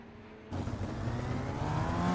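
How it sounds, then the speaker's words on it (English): Beaufield race car engine in rFactor 2 during the HRSC Targa Sicilia event, a quiet hum that jumps abruptly into a loud, steady engine roar whose pitch climbs gradually as it accelerates. "lovely sound from the Beaufield car"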